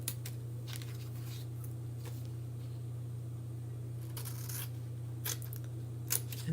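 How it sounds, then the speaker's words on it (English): Scissors snip out paper pieces in a quiet room, with sparse, short crisp cuts and small rustles over a steady low electrical hum. "Let's cut those pieces out."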